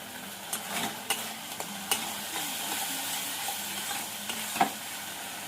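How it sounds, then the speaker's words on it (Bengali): A chilli and cumin spice paste fries in oil with a soft continuous sizzle, while a spoon stirs it with scattered light scraping taps. "লঙ্কা জিরেটা ভালো করে কষিয়ে নেব"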